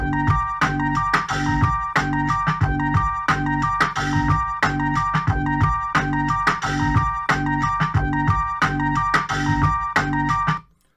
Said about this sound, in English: So if that loop was just one beat, it will sound like this to this drum track